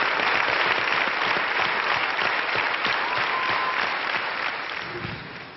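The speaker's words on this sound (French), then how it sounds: "il reçoit donc son 3e César et la standing ovation de toute une profession" Sustained standing ovation from a full hall at the César awards ceremony, dense steady clapping that runs without pause and fades slightly toward the end.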